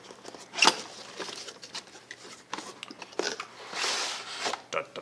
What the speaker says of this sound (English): cut the seal.